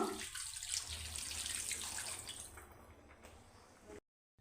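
A steady stream of water splashes and hisses into a cooking pot of chicken gravy curry for several seconds, then stops abruptly.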